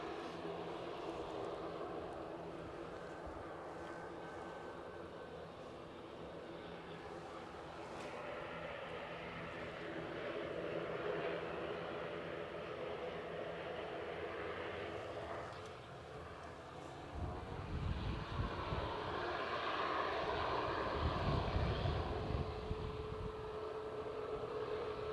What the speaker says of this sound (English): we better stick with the departing Aer Lingus